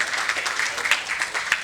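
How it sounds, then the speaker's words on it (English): Conference audience applauding at the close of a finance panel discussion, a short burst of steady, fairly close clapping from a modest crowd. "Huge round of applause, everyone."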